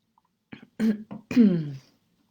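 A short burst of throaty coughs and throat clearing, close and fairly quiet, with a few quick rough bursts ending in a longer hacking cough.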